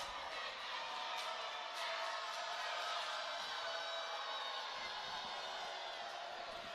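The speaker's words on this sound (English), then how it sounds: "As the crowd is using their abilities to hype up their team." A crowd at a high school boys basketball playoff semifinal keeps up a continuous roar of cheering and whoops during a timeout, a faint, distant wash of noise.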